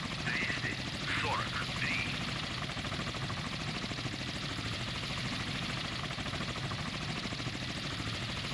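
Ka-27 helicopters in the Sea Power naval warfare game give off a steady rotor thrum and engine drone, with some brief chirping tones near the start.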